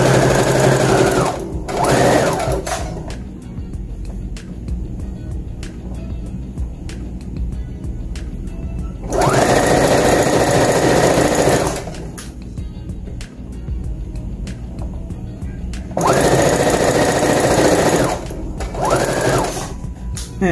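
A sewing machine stitches a girl's Easter dress in three loud, steady runs of a few seconds each, separated by quieter pauses with faint handling noise and no talk.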